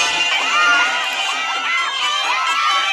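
A crowd of game characters in a Squid Game video game yells a sustained, high-pitched chorus of shouting voices, loud and continuous throughout without pause.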